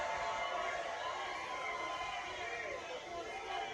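A large crowd at a Trump rally in the Bronx fills the air with a continuous, distant roar of cheering and mixed voices, steady in level across the short stretch.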